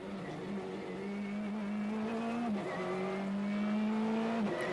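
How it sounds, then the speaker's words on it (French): A Peugeot 306 Maxi rally car with a 2-litre naturally aspirated engine at Rally Hebros 2003 howls at high revs, holding a steady drone with brief dips at gear shifts, heard alone from a moderate distance. "Et on ne se lasse pas, Marc, du moteur infernal 2 litres atmosphérique, bien sûr, de cette superbe voiture qui était la Peugeot 306 Maxi"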